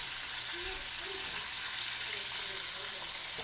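Chicken pieces deep-frying in hot oil for crispy KFC-style chicken, a dense, continuous sizzle that stays steady and fairly loud throughout, with no talking over it.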